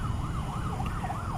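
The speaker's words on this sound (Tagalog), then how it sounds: "yung ambulansya na naririnig natin yung tunog niya" Ambulance siren wailing through traffic on EDSA in Cubao, Quezon City, its tone rising and falling steadily over a dense low rumble of vehicles, fairly close and continuous.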